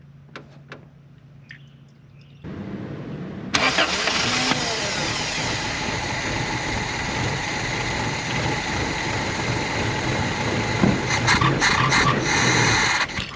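A Toyota 22R engine in a pickup truck cranks and then catches, settling into a loud, rough, steady running sound close by after a few seconds of quieter noise.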